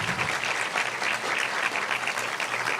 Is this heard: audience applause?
yes